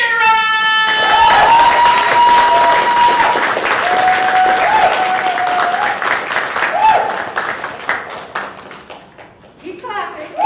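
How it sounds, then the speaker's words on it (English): Loud sustained applause and clapping from a poetry slam audience at CONvergence 2022, filling most of the clip before tapering off, with a voice speaking over it and brief vocal sounds near the end. "Keep clapping."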